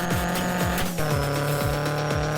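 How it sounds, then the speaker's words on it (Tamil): Roblox car engine revving at speed, steady tone with repeated sweeping gear-shift whines in a regular rhythm, loud and continuous with no talk. "நெக்ஸ்ட்டு வந்து இந்த கார் எவ்வளோ ஸ்பீட் போகும் பார்த்தோம்னா"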